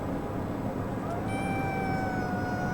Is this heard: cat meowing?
yes